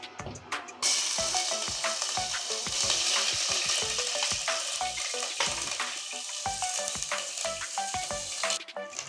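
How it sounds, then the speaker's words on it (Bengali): Onions sizzle steadily in hot oil while a utensil stirs and scrapes the pan in repeated strokes, close and fairly quiet, with no talking. "এখন আমার পেঁয়াজটা ভাজা হয়ে গিয়েছে"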